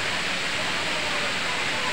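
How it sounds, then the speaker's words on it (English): Continuous roaring rush of Daranak waterfall near Manila, loud and steady throughout with no breaks. "It's a beautiful waterfall here."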